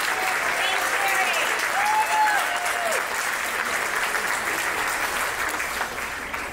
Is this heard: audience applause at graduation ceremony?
yes